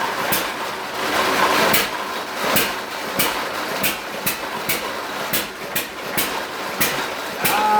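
Hit-and-miss engine driving a generator under partial load, a steady run of sharp regular firing beats about every half second over a constant mechanical rumble and hum.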